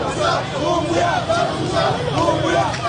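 Jubilant crowd in Touba welcoming an arriving delegation at the town's main entrance, a dense, continuous roar of cheering and overlapping voices with shouts rising and falling throughout.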